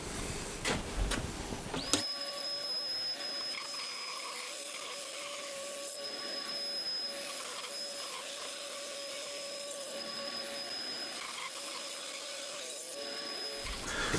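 A table saw rips thin 2.5 mm sapele strips, starting with a short clatter before a steady, close, high-pitched whine and cutting hiss that holds evenly for about twelve seconds before stopping.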